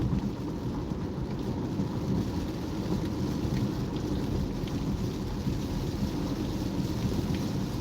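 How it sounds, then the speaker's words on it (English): A heavy rainstorm with rolling thunder heard from inside a car driving toward the Gratiot to I-94 merge, a steady loud wash of pounding rain and low rumbling throughout. "it's going to start raining hard now"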